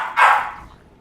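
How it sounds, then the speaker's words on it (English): A puppy gives one loud, close bark in the background of a room, which then fades out quickly. "I apologize for the puppies in the background."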